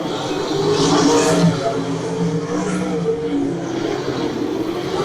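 360 sprint cars race at Brighton Speedway, their engines roaring loud and continuous, with the pitch surging and falling as cars sweep past.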